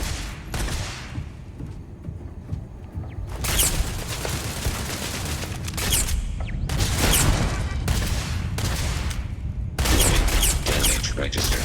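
Gunfire in a combat zone in Starfield: repeated loud bursts of shots and booms in irregular clusters, with a voice talking over the firing.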